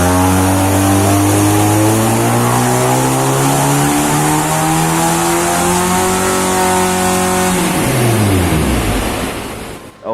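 A Honda Civic 1.8L engine revs hard on a dyno, its pitch climbing steadily for about eight seconds before dropping off sharply. The sound is loud, close and continuous.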